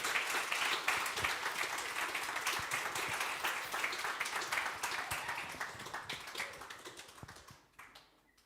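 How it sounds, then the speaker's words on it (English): A theatre audience claps steadily in a dense, continuous wash to welcome a couple, Mick and Julie, onto the stage, the applause slowly thinning and fading toward the end. "Give them a really good clap"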